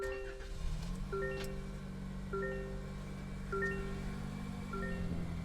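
A 2025 Toyota Corolla LE starts with a key and settles into a quiet, steady idle, with repeated chime tones sounding over the low engine hum and no speech.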